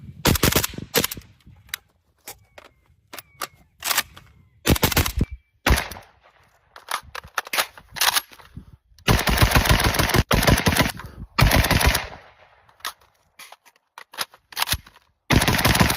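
Rapid gunfire from a 514-S rifle chambered in 5.56x45, loud close shots in quick strings and bursts with short pauses between, including sustained rapid volleys.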